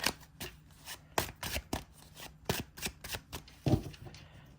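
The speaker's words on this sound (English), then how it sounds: "Just a quick shuffle." Tarot cards are shuffled in quick, crisp bursts of riffling and tapping, close up and fairly quiet, with no talking.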